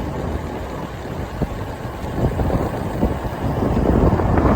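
Wind rushes over a cyclist on a long cross-Canada ride, a steady, low roaring buffet against the microphone that swells louder toward the end, with no voices.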